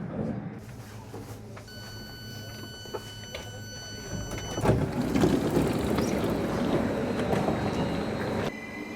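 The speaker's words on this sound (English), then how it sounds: "this is the B train via Tikkurila to Helsinki" A commuter train bound for Helsinki via Tikkurila rumbles along in a steady low hum, with the cabin noise swelling louder partway through as the carriage picks up speed.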